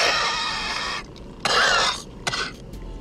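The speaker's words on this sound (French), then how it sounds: "il se met soudainement à éternuer et à tousser plusieurs fois." A person sneezes and coughs several times in quick bursts, close and loud, with short pauses between the harsh coughs.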